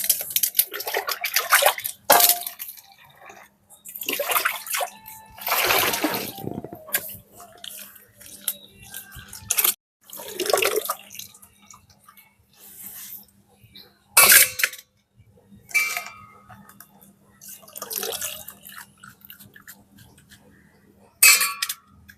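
Cooked cabbage drained of its water, with several bursts of pouring and splashing separated by quieter gaps and occasional clinks of utensils against the pot.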